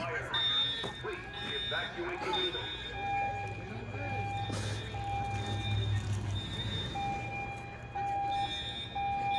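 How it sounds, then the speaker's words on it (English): Fire alarm going off inside a church, repeated electronic beeping tones pulsing in a steady pattern at moderate distance, under people talking and moving around. "Apparently somebody pulled a fire alarm"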